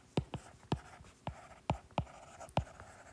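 Numbers written by hand on paper, about a dozen short scratchy pen strokes in an uneven rhythm, close and fairly quiet.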